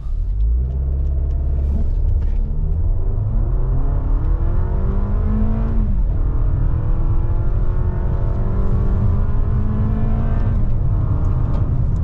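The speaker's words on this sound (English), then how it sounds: "RAV4 TRD, traction off, brake rev happening, and sport mode on." A Toyota RAV4 TRD in sport mode with traction control off launches from a standstill for a 0 to 60 run. The engine rumbles loudly and rises in pitch through several gear changes, each shift followed by a fresh climb.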